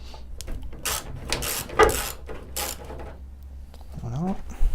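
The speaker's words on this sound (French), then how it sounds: "je vais les desserrer" A hand ratchet clicks and creaks while loosening the hood screws on a Peugeot 205 GTI, in short close bursts of ratcheting with pauses between them.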